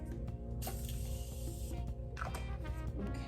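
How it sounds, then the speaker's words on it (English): Two quick hissing bursts of Morphe setting spray misting onto a face, close and fairly loud, the second arriving after a short pause. "Okay, so now I'm going to spray my face."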